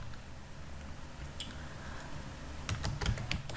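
Computer keyboard typing while writing React code to fetch REST API data: faint scattered keystrokes at first, then a quick close burst of clicks near the end.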